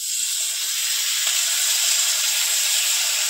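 Taro pieces dropped into hot spice paste of garlic and green chilli frying in a pan, giving a steady, loud, even sizzle and hiss throughout with no talking.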